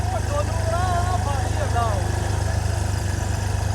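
A tractor engine idles steadily in a muddy field at a soil service event at Dera Baba Nanak, a low continuous rumble running throughout while people talk over it.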